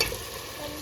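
Boiled chicken tipped into hot gravy in a pan gives a brief, faint sizzle with a soft stirring rustle, close by and alone.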